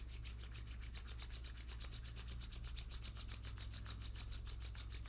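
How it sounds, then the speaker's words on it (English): Both palms rubbed together vigorously, a quiet dry rasping friction repeated in quick, even strokes over a faint low hum. "Let's take both hands together. Rub the palms vigorously,"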